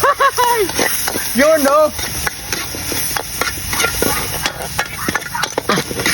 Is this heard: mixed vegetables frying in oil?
yes